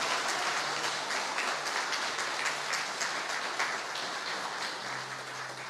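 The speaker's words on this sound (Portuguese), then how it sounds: "Eu quero uma grande salva de palmas para Jesus." A church congregation bursts into loud, sustained applause, dense overlapping clapping that fills the whole stretch without pause and fades only slightly toward the end.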